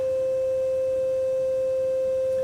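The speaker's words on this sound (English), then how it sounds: "So in this case, we have a C note." A pure sine wave tone at a C note of 523 hertz holds steady and unbroken, clean and alone with no other sounds.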